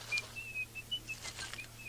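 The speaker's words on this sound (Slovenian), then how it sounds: "Žvižga alarm." A thin, high whistling tone pulses on and off in short repeated beeps over a low steady hum, fairly faint.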